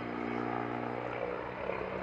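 A Turkish T129 ATAK attack helicopter flying at an air display, a loud, steady rotor and turbine roar filling the short stretch without letting up.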